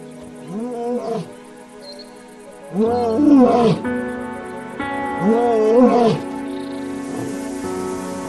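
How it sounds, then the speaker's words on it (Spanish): Male lions roar out in the wild, several deep, heavy calls in rhythmic series, loud and close, with pauses between bouts and a faint patter like rain underneath. "Las llamadas de los leones que vuelven ponen nervioso a este joven."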